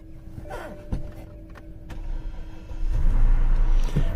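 An older BMW at a salvage auction, one with many mechanical problems, is cranked over and its engine catches with a low rumble in the last second or so, preceded by faint clicks and mechanical noise.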